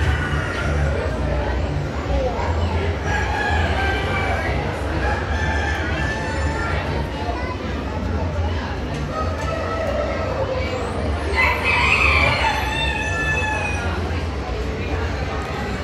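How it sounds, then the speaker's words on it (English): A rooster crows at the Sheboygan County Fairgrounds on Labor Day weekend, its call rising once clearly near the end amid steady crowd murmur, with clucking fowl and voices around it. "let's get a chicken, a rooster"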